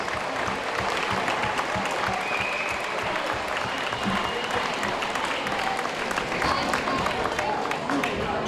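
A gym crowd at a 1974 high school basketball game applauds the Lower Bucks County League champions, a loud, steady wash of clapping and cheering with crowd chatter mixed in throughout.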